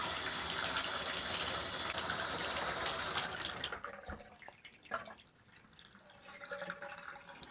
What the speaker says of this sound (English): Run the water for about a minute or two.